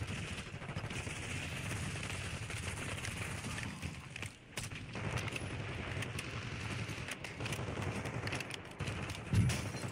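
Gunfire in Call of Duty Black Ops 6 Warzone, fairly faint, steady bursts of shots across a noisy battlefield with game ambience and occasional voice underneath.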